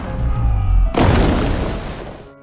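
A loud, close explosion from a movie battle scene bursts in about a second in, following a lower rumbling stretch, then a broadband roar that slowly decays over the next second and a half.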